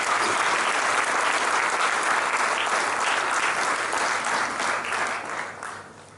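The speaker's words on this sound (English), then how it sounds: "let's have a round of applause for everybody" A round of applause from the audience at a 98th birthday celebration for Sri Sathya Sai Baba in Auckland, New Zealand, with full, steady clapping from a crowd that thins and fades toward the end.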